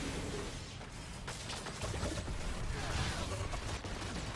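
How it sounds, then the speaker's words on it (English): Mortar explosions in the Evolve video game, a monster match of the Kraken on the Barracks map: dense, rumbling blasts and crackling booms roll continuously at moderate loudness. "That was a good mortar."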